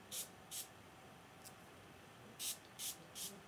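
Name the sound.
heat protection spray being sprayed onto hair extensions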